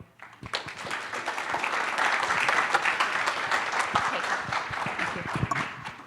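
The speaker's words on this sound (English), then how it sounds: "let's have a round of applause for all of our speakers today" An audience at a water safety summit breakout session claps steadily for several seconds, a dense, even round of applause that swells quickly and then holds.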